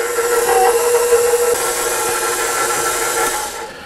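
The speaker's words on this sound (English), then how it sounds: "raise the bowl up on the mixer, and we're going to turn that on slow and let that mix for a minute or so" A stand mixer running on slow while mixing bread dough for cheesy bacon beer bread, giving a loud, steady motor whir and hiss that holds throughout and then fades slightly at the end.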